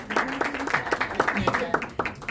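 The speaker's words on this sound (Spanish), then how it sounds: "¡Un aplauso! ¡Bravo!" An audience applauds at a press presentation of a television show's new season, with scattered, moderately loud claps over a voice speaking through the burst.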